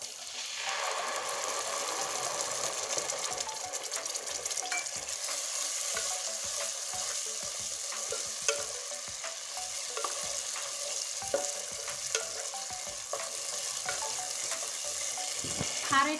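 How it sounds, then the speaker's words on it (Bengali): Cumin paste and chili paste sizzle in a pan with already fried onion and garlic: a steady, close hiss of frying with scattered clicks of stirring, nothing else heard. "এই দেখুন পেঁয়াজ রসুন একসঙ্গে আমি ভেজে নিয়েছি। এবার এখানে আছে জিরে বাটা আর লঙ্কা বাটা,"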